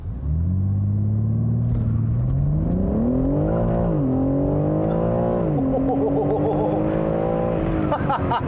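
A 2021 BMW M3 Competition launches hard from a standstill toward 60 mph, its engine note climbing loud and close through rising revs with brief dips at each gear change, a continuous roaring acceleration with no talk over it.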